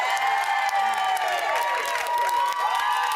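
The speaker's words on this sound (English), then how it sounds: "ladies, give yourselves a round of applause." A TV studio audience in a celebrity reality show companion programme gives a loud, continuous burst of applause and cheering for a group of women housemates. Sweeping music tones run through the dense, steady crowd noise for about three seconds.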